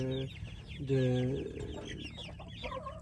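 Hens clucking close by, a few short, throaty calls in quick succession with softer background clucks and faint farmyard ambience.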